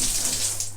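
Water streams from a shower in a rustic bathroom built around natural rock at a cheap beach bungalow on Koh Phangan, Thailand, a steady close hiss of running water with no voices.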